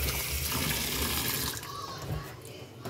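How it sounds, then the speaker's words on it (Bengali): Water pours steadily from a broken water filter, a continuous rushing splash close by that eases slightly near the end. "দেখো জল পড়ে যাচ্ছে কিভাবে।"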